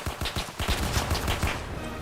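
Rapid gunfire from a D-Day shooter game, one shot landing as a headshot: a dense run of sharp cracks, several per second, over a steady busy battlefield background, with no talk.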